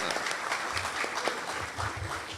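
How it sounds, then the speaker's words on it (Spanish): A Lima anniversary event audience at the Congress of the Republic of Peru applauds with steady, dense clapping from many hands, moderately loud, with no voices over it. "Vamos a aplaudir todos al Perú"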